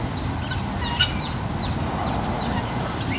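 Chickens at a dino park farm enclosure give scattered clucks and short calls over a steady background hiss, with one brief louder squawk partway through.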